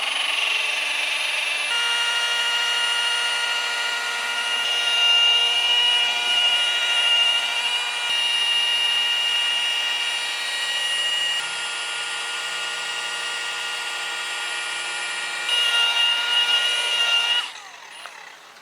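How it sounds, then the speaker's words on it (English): A rotary polisher fitted with a wool pad and compound works the painted skin of a Daher Kodiak 100 aircraft, giving off a steady, high, whining hum close by that shifts slightly in pitch, then cuts off near the end. "You can kind of see what the pattern looks like as the polisher is going around."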